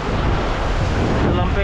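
Steady, roaring seaside wind buffets the microphone over a broad wash of surf-like noise, loud and constant throughout.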